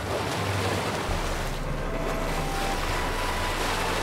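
Steady ocean surf and wind in a Nancy Drew video game scene, with a boat and mountains nearby; a continuous, full wash of breaking waves holds at even loudness throughout with no talk.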